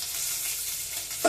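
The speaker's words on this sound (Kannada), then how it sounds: "ಸಾಸಿವೆ ಜೀರಿಗೆ ಎಲ್ಲ ಸಿಡಿತಾ ಇದೆ ನೋಡಿ." Mustard seeds and cumin crackle and sputter in hot oil for a tempering, a steady dense frying hiss close by with a brief louder pop at the end.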